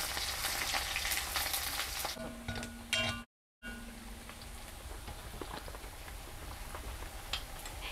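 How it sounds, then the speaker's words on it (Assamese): Bay leaf and chopped onion fry in hot oil in a kadai with a constant, close, crackling sizzle, broken once by a brief total dropout and then carrying on evenly. "কেৰাহী এখনত তেল গৰম কৰি তাতে প্ৰথমে তেজপাত আৰু তাৰ পিছতে ডাঙৰ সাইজৰ কাটি ৰখা পিয়াজ এটা দি ৰঙচুৱা হোৱালৈকে ভাজি লওঁ"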